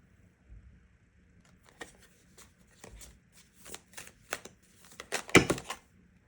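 Tarot cards are shuffled by hand in quick riffling bursts, starting soft and sparse and building to louder, denser flurries near the end, close up with no talking.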